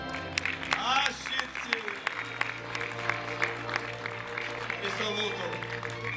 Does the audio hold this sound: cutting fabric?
no